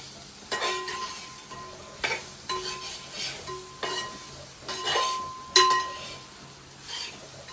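Grated coconut and curry leaves roast in a pan for sambar, stirred with a spoon in regular strokes that clink against the metal over a soft sizzle, close and fairly quiet.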